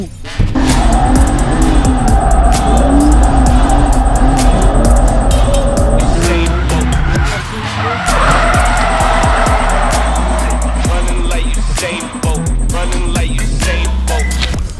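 A car engine revs hard with repeated tire squeals and skidding while testing the differential on an old Mercedes drift project car, loud and close, easing briefly before roaring again.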